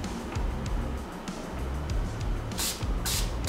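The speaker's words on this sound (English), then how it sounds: "Now I'm going to clean it with my saline spray." A handheld saline spray bottle mists a cheek or dimple piercing at close range, giving two short hissing bursts near the end over a low, steady background.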